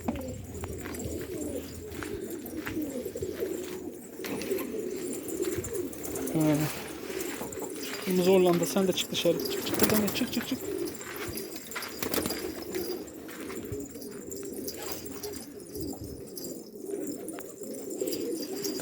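Sarı macar pigeons coo softly and repeatedly nearby in a loft, the low calls running under a man's intermittent speech.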